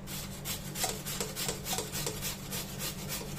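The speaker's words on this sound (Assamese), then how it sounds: "তাৰপিছত মই লৈছোঁ এখন ইয়াতে গ্ৰেটাৰ মই ডাঙৰ চাইডটোৰে এনেকুৱাকৈ গ্ৰেট কৰিম লম্বা লম্বাকৈ" Peeled potatoes are rubbed along the large side of a grater into long shreds, making a steady series of close, rhythmic rasping strokes with no talking.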